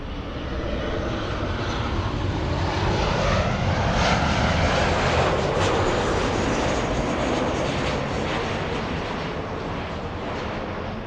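A Boeing 737 airliner at LAX roars steadily with broadband engine noise, holding loud and continuous throughout as the jet passes close by, with no talk.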